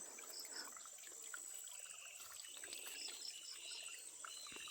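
Water trickles steadily on a farm, a soft continuous babble mixed with a dense chorus of insects and occasional faint bird calls in the background.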